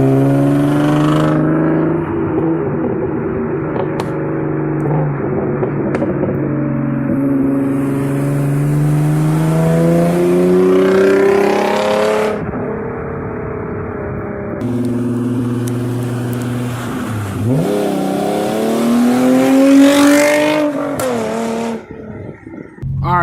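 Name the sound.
Genesis Coupe exhaust revving, straight piped versus stock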